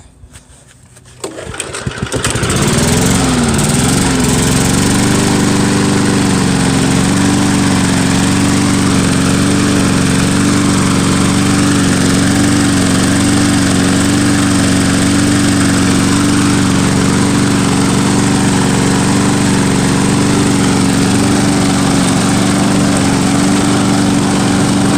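A 1984 Craftsman push lawn mower engine catches after a brief pull-start rattle and settles into a loud, steady, close running drone that holds unbroken to the end.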